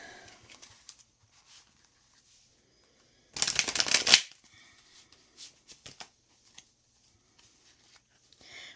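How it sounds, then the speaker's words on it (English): A deck of tarot cards being shuffled: one brisk, close riffle lasting under a second, then a few soft card taps and quiet handling in an otherwise hushed room. "I'm shuffling."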